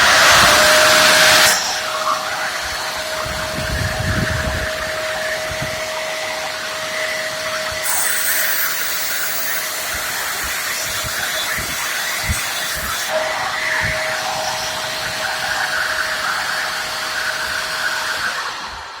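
A Ridgid wet and dry vacuum, made of plastic, whines to life with a loud burst, then settles into a steady roaring hum with a constant tone, running alone for many seconds before winding down slightly at the end.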